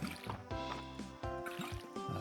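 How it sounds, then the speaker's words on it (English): Watermelon crops are watered in a farming video game, giving soft liquid drips and splashes that repeat under gentle game music, with no voices. "Let's quickly water these. These are our watermelons."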